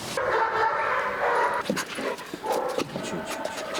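A service dog pants and whimpers close by at a canine training center, with a few short yips and snuffles over a steady background hum.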